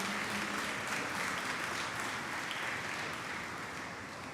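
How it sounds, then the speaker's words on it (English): An audience at a moot court closing ceremony applauds the judges: a steady, dense wash of clapping that holds evenly and fades slightly at the end, with no voices over it. "can we have a huge round of applause for our judges?"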